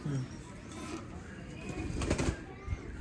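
Pigeons in a loft in Karnataka coo softly at moderate distance, with a brief flutter of wings, while someone talks quietly nearby.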